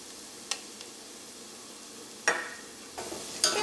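Turmeric powder frying in oil with onions in a pan, a faint low sizzle with a few scattered spatula scrapes and stirring bursts, no voices.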